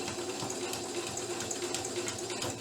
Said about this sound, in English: I'm going to put a back stitch in there